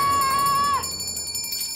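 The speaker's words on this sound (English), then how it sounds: "Enough with the bell already!" A cartoon bell rings with a bright, sustained metallic tone that holds for most of a second, then cuts off into fainter, scattered ringing overtones.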